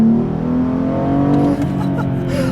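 Tuned 2015 BMW M235i xDrive accelerating hard on a back road, its engine note climbing steadily and loud from inside the cabin before a quick shift and a renewed pull.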